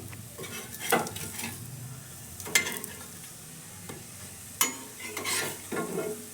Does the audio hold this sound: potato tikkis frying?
yes